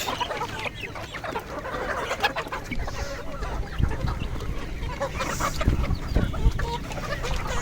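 Desi chickens cluck steadily at close range while eating leftover roti, with busy overlapping calls and some scratching and pecking underneath.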